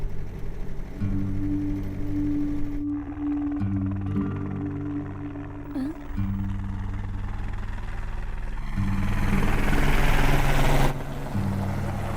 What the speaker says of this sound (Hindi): भैया वो देखो हेलीकॉप्टर।